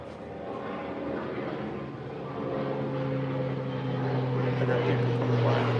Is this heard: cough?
no